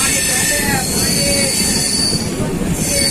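A Kiul-Malda intercity train grinds through the Bhagalpur rail yard with loud, sustained metallic wheel squeal, steady rolling rumble underneath and shrill tones shifting over several seconds.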